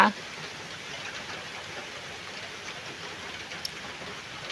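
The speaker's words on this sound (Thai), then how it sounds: "ฝนซาซามาแล้วจ้า" Steady hiss of rain falling, an even broadband wash that continues throughout with no voices over it.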